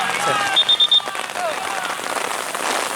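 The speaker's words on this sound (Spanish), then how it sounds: "llueve para todos lados" Rain falling steadily on an outdoor football pitch during a match, a continuous hiss with a short burst of whistle blasts and nearby voices over it.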